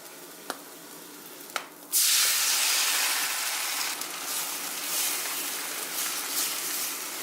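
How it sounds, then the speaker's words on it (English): Oatmeal mixture with chocolate chips, cinnamon and honey nut butter hits a hot pan with a sudden loud sizzle after two faint clicks, then keeps hissing and frying steadily up close. "So, I'm gonna throw this in the pan,"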